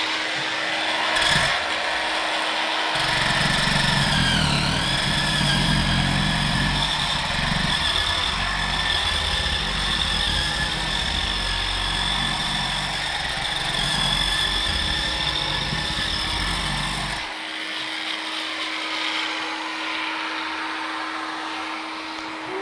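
A Bosch GWS 12-125 CIE angle grinder gives a loud, steady whine over the droning motor of a Bosch GAS 25 L SFC dust extractor, running continuously for most of the clip before the low rumble drops away near the end.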